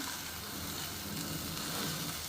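Tomatoes fry with onions in a pan for a vegetable dish, a soft, even sizzle and hiss that holds steady throughout with no talking over it.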